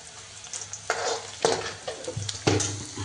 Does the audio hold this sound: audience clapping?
no